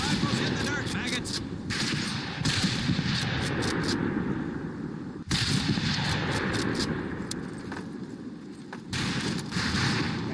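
Sustained bursts of Thompson M1928A1 submachine gun fire in the World War II shooter Medal of Honor Pacific Assault, loud and continuous with repeated sharp volleys over a dense battle din across the whole stretch.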